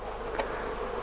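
Bees buzzing around a top bar hive, a steady close-up insect hum filling the short moment with one brief louder swell as a bee passes near.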